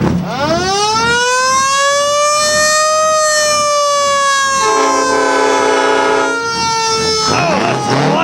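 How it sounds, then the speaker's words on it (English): An old siren mounted on a hot rod at a car-show cruise-in winds up into a loud, steady wailing tone, with a harsher horn-like blast overlapping midway, before cutting off near the end. "That's an old siren."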